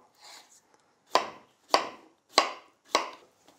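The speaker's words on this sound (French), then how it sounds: "Maintenant, je vais découper mes pommes de terre." Four crisp knife chops through potatoes on a cutting board, evenly spaced and close, after a soft rustle at the start.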